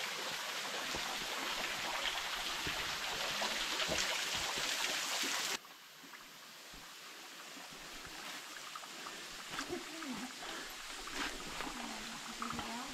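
A small waterfall trickles along a forest trail at Rio dos Cedros, a soft, continuous splash of water that drops in level partway through, with faint voices in the background.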